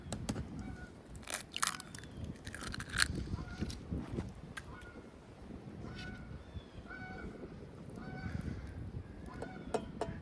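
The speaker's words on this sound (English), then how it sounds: "the geese are turning back from the south" Geese honk repeatedly in scattered, overlapping calls as they fly back from the south, heard outdoors over rustling and crunching near a wood stove, with people talking now and then.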